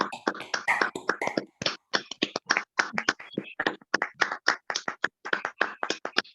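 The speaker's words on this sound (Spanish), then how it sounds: "Un aplauso por su exposición" A crowd applauds enthusiastically, dense clapping continuing steadily for several seconds with no talking.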